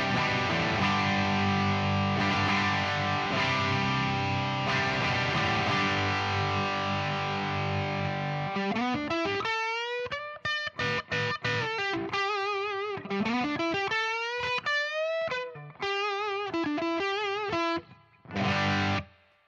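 Distorted electric guitar through a bridge humbucker pickup on a Yamaha Revstar, with a thick, driven tone: sustained chords ringing first, then quick riffs and bends with short stops, played alone without talk.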